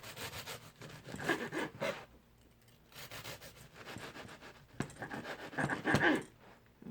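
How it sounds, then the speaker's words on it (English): A knife trims the edges off a piece of food for an hors d'oeuvres platter, giving a few close, soft rubbing, sawing strokes in two short bursts with quiet pauses between them. "you're gonna trim the edges like this"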